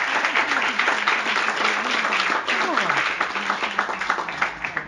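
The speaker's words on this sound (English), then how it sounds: "So give Nancy a huge round of applause." An audience at a bookstore author talk gives a steady round of applause that fills the whole stretch, with whoops and cheering voices rising over the clapping.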